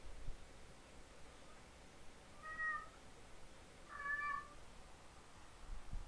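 A pet cat cries out twice indoors, a short meow followed by a longer, louder one a moment later, both fairly faint against a quiet room hiss.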